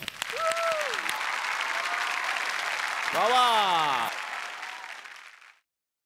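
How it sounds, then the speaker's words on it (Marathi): A television studio audience breaks into loud sustained applause for actor Saurabh Gokhale, with music swelling over the clapping and a voice calling out before it fades away. "जोरदार टाळ्या सौरभ गोखलेसाठी"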